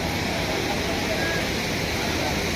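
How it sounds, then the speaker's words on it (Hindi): Broad, steady rushing roar of a river flowing below the Tapt Kund hot spring, continuous and fairly loud, with possible faint voices mixed into the wash. "कल बहती हुई नदी"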